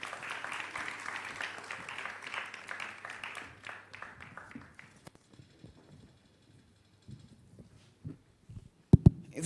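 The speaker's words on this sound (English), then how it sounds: "A round of applause for him." Audience applause for the chairman of the National Media Commission at an election command centre launch, a dense burst of clapping that fades out over about five seconds, followed by near silence and a few scattered knocks.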